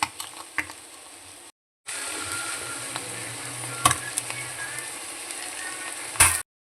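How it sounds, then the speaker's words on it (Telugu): Halved boiled eggs fry in a pan with a steady, soft sizzle that briefly drops out, then resumes, punctuated by a couple of sharp metallic clinks from turning them. "ఈ రెండో వైపు కూడా మంచిగా ఫ్రై కానివ్వండి."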